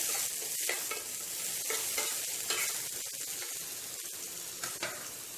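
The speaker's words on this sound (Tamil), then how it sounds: "இப்போ வெங்காயம் நல்லா பொன்னிறமாக பொரிஞ்சிடுச்சு" Onions sizzle and crackle steadily in hot oil as they fry golden brown for a pasta sauce, with occasional scraping and stirring sounds close by.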